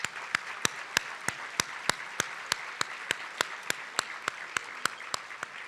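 Audience at a youth awards event applauds elected officials, with a soft wash of clapping behind one close, loud clapper striking hands in a steady, evenly spaced rhythm.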